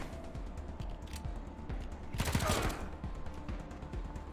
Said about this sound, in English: There's some friendly fire going on over there